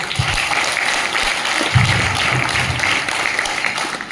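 A seated seminar audience at a business team meeting claps together, a dense, loud wash of many hands that carries steadily from start to finish, with a brief swell midway.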